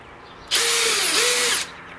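A power drill bores a hole through a pull-behind camper wall, a steady high whine lasting about a second that dips in pitch midway, starting and stopping abruptly against a quiet background.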